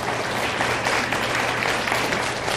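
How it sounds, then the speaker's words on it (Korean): Steady, enthusiastic applause from an audience at a lecture, continuous and fairly loud throughout. "뜨거운 박수로 환호해 주시기 바랍니다"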